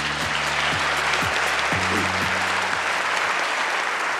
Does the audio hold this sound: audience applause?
yes